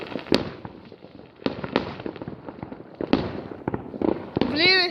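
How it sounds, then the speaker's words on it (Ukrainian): New Year's Eve fireworks burst repeatedly outdoors, sharp bangs and crackles at irregular intervals with a rising whistle near the end, while a person talks between the blasts. "Мне так нравятся эти салюты."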